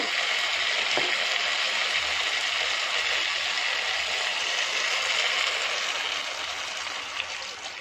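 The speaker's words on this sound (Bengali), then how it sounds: "এবারে আমি জল দেব" Water poured into a pan of sizzling vegetable curry sets off a loud, steady frying hiss, with a brief splash near the start, easing slightly toward the end.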